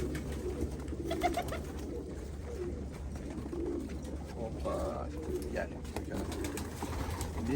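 Pigeons or doves coo steadily amid a busy bird market where green and red birds are offered for sale, with a continuous low hum and background chatter throughout.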